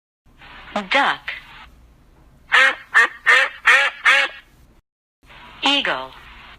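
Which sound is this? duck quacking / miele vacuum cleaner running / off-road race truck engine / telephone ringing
duck quacking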